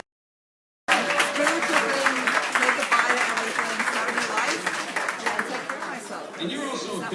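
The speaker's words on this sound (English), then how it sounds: "Can we give Marco another big round of applause?" Audience at a Three Kings Day Parade breakfast ceremony breaks into sustained applause after a brief silence, steady dense clapping that slowly thins toward the end.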